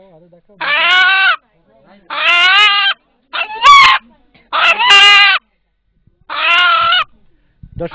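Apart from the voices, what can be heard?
rooster crowing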